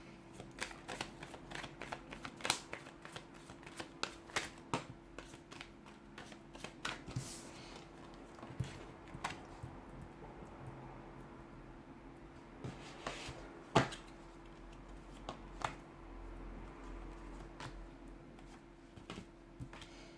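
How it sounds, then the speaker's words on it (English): Tarot cards being shuffled repeatedly, with soft riffling and sharp snapping bursts at irregular intervals over a quiet, steady hum. "let's give the cards a shuffle"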